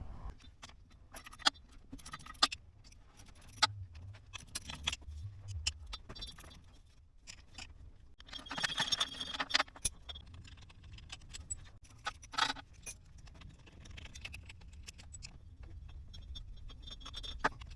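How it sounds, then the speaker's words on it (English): Metallic clicks, taps and clinks from a wrench working the six front driveshaft bolts loose underneath a Jeep Grand Cherokee WK with a clicking driveshaft fault. The sounds come in scattered close bursts with quieter stretches between, and no one talks. "I'm going to get these 6 bolts out, and then we'll go from there and try and take the shaft out."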